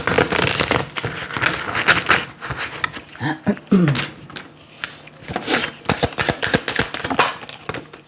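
Oracle cards being shuffled in quick bursts of riffling and flicking, close and fairly loud, during a tarot-style reading, with brief soft handling noises between the bursts.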